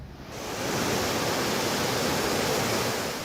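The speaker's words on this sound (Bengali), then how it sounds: "দমকা ও ঝড়ো হাওয়ায় ফুঁসে উঠেছে সমুদ্র" A rough sea churned by gusty stormy wind during a low-pressure system off the Bangladesh coast roars as a dense, continuous wash of noise, loud and close, swelling in over the first half-second and then holding steady.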